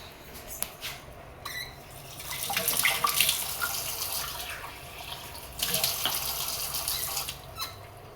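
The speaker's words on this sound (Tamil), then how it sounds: "1 டம்ளர் தண்ணி ஊற்ற போகிறேங்க" Water is poured from a tumbler into a cooking pot in a kitchen, a splashing stream that starts softly, swells loudly, pauses, then pours again in a second strong burst.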